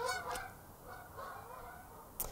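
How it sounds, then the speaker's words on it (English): Geese honking as they fly overhead outdoors, a few distant calls spread across a couple of seconds, fairly faint against a quiet background. "there's geese flying"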